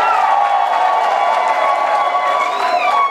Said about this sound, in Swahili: Piga makofi kwake.